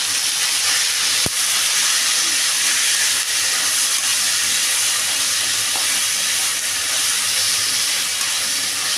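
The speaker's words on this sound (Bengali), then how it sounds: "লঙ্কার গুঁড়ো, জিরে গুঁড়ো, ধনে গুঁড়ো, চিনি, এগুলো সব ভেজে নেব।" Turmeric, chili, cumin and coriander powders with sugar fry in hot oil, a steady, broad sizzling hiss that holds evenly from start to finish with a sharp tap early on.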